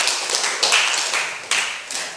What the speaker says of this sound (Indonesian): Kita beri tepuk tangan, terima kasih.